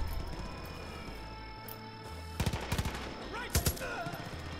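Gunfire in the Far Cry 5 video game: a few sharp shot bursts in quick clusters near the middle and end, over a steady game background hum with faint voice-like tones.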